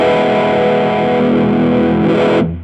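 A Heather Brown Electronicals Sensation Fuzzdrive fuzz pedal gives a loud, thick, sustained distorted guitar tone that rings steadily for over two seconds, then cuts off and decays at the end.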